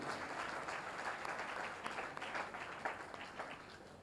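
A congregation at a night satsang in the Koday Gurukul hall applauds to welcome a guest official, a steady, distant wash of many hands clapping for several seconds.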